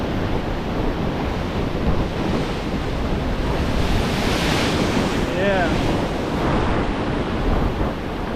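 Ocean waves surge and splash against a rock ledge on a stretch of coast, a constant loud roar of surf with heavy wind buffeting the microphone and a brief spoken word over it.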